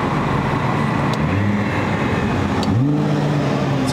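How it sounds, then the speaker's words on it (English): A Nissan GT-R engine drones steadily, then blips sharply upward in a rev-matched downshift near the end, loud and close over road noise. "It's always the rev match downshift."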